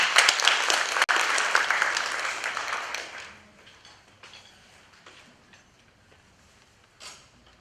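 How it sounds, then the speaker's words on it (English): Applause from an audience at an honor society induction ceremony, dense and loud for about three seconds, then thinning to scattered claps with a brief last burst near the end. "please give yourselves another round of applause"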